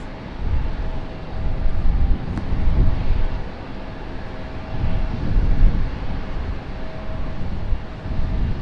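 A Republic Airways airliner at an airport gives a steady, rumbling low roar that swells and eases without stopping, with wind buffeting the microphone; no talking.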